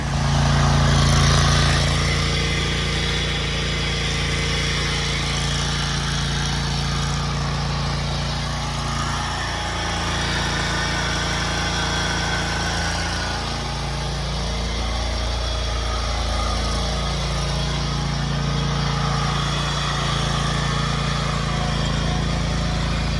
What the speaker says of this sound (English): So we're done mowing this.